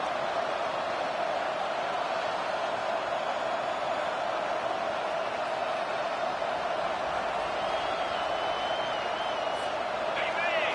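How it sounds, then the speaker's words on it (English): A loud, sustained crowd roar fills a Buffalo football stadium, an unbroken wall of cheering that stays at full volume throughout. "This crowd, full throat, splitting the eardrums"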